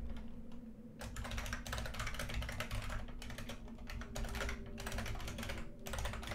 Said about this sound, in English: I'm having some trouble typing today.